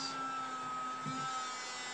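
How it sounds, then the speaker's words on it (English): A small handheld vacuum cleaner runs steadily as it sucks debris and dog hair from between computer keyboard keys, a constant close whine with a brief lower shift partway through. "We'll now vacuum in between my keys."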